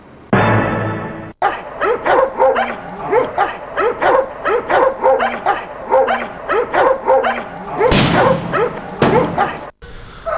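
Dogs at an animal shelter bark in a rapid, repeated series of sharp yips and whimpers, loud and close, with a burst of overlapping barks near the end and a brief voice at the start.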